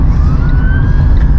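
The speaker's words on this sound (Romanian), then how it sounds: "Vine salvare!" Ambulance siren drawing closer, a rising wail sweeping upward over loud, constant low traffic rumble.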